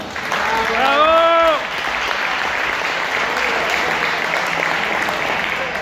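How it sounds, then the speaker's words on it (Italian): Audience applause at a tribute event for the 50th anniversary of a fresh pasta business, with a voice speaking over the opening seconds before steady, dense clapping continues alone. "fate un applauso intanto"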